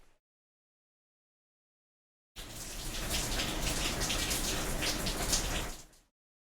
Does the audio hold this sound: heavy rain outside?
yes